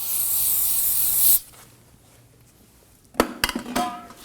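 Brake parts cleaner sprayed from an aerosol can onto a 2016-2020 Kia Sorento's control arm area: a loud, steady hiss for over a second, then quiet, followed by clatter of the can or tools.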